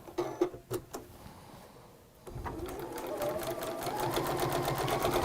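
Sewing machine top stitching along the bottom edge of a fabric lining, a steady rapid whir that starts after a few faint taps and builds into continuous close stitching.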